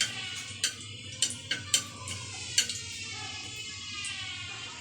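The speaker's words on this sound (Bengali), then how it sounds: "এবার একটু নাড়াচাড়া করে নেব।" Bay leaves and two dried red chillies stirred in hot oil in a kadai, a steady sizzle broken by several sharp spoon taps against the pan.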